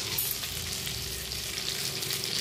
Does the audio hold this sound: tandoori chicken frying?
yes